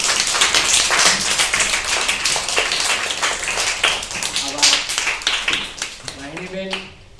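Group of people, a class of third-grade students, clapping in dense, lively applause to welcome a guest, fading toward the end as a voice begins to speak.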